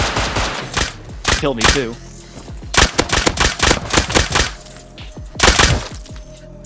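Pistol gunfire in the game Rust crackles in loud, close bursts of rapid shots, separated by short pauses, with voices talking between the volleys.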